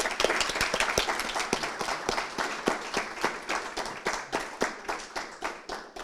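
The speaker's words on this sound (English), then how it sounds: "je pense que vous méritez une bonne main d'applaudissements" Audience applause after a memorial lecture, steady, close clapping from a crowd filling the whole six seconds and gradually thinning toward the end, with no voices heard.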